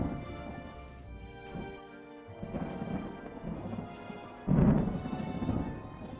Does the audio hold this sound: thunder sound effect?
yes